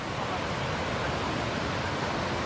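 Ocean waves breaking steadily on a beach at Da Nang during a surf contest, a continuous broadband wash of surf with a light breeze, no pauses, fairly loud and close.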